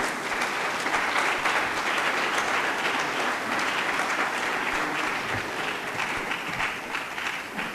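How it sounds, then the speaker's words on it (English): An audience at a political address applauds loudly and continuously after a regional minister's speech, the clapping dense and steady throughout. "Please give him another round of applause"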